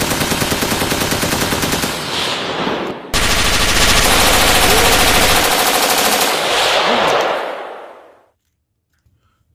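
Sustained rapid automatic gunfire from a video game, loud and continuous with a brief break near three seconds, then cutting out to near silence at the end.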